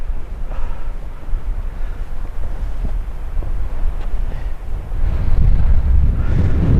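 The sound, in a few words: strong wind on a hilltop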